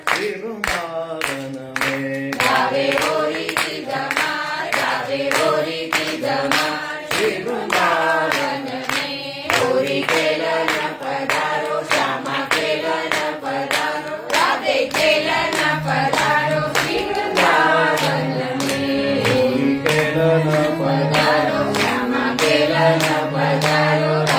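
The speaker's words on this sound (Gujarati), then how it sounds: "સિંગલ તાળી લેવાની છે, એની સાથે એક જે છે એની ફૂલ તાળી આપવાની, બીજાની અંદર સ્લો રાખી દેવાનો" Hands clap in a steady rhythm during a kirtan class, sharp regular claps keeping time over sustained singing voices throughout.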